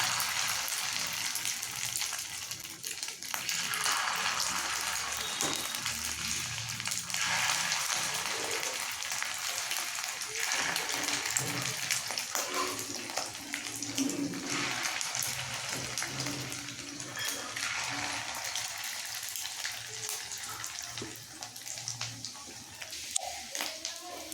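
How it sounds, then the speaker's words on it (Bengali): Small egg batter fritters frying in hot oil, a steady bright sizzle and crackle running continuously, with faint voices in the background. "ওই ব্যাটারটা নিয়ে ছোট ছোট সাইজের বড়া করে তেলে দিয়ে দিলাম"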